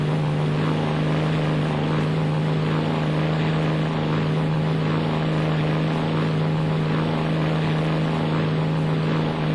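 A loud, steady engine roar of unlimited hydroplane racing boats in a Gold Cup heat drones continuously with a strong low hum and rushing wind noise, no pauses.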